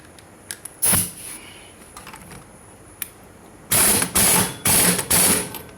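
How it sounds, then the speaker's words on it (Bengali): Ratchet wrench tightening a nut on the clutch plate of a TVS XL moped, one early burst then four rapid ratcheting bursts in close succession, loud and near, with light metallic clicks between them. "আমরা এখন এটা লাটটা লাগাই দেবো"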